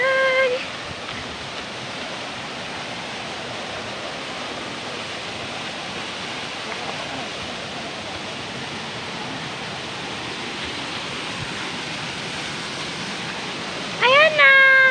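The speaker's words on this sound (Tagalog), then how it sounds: "Ayan guys, nandito na po kami sa falls." Steady roaring rush of a waterfall, broad and continuous throughout, with a brief electronic beep-like chirp at the start and another near the end.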